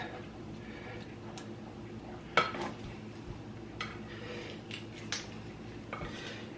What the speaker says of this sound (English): I'm using a spoon because it's getting really thick